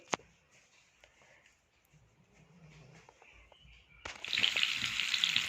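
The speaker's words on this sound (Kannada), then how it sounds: "ಜೀರಿಗೆ ಸೇರಿದ ಮೇಲೆ ಚಕ್ರ ಮೊಗ್ಗು ಮರಾಠಿ ಮೊಗ್ಗು ಮೆಣಸಿಕಾಯಿ ಹಾಕ್ತಿದ್ದೀನಿ" Star anise, marathi moggu and chillies dropped into hot oil with cumin for a green egg curry: a quiet kitchen with faint clinks, then a sudden loud, crackling sizzle bursts in near the end.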